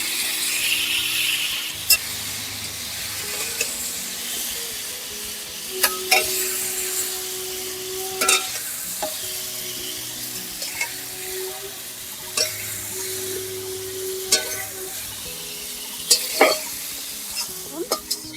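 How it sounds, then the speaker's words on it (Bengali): Sliced ridge gourd fries in a pan with a continuous close sizzle, with repeated sharp scrapes and knocks as it is stirred and turned. "ঝিঙেগুলো কিন্তু সুন্দর ভাজা ভাজা হয়ে গেছে"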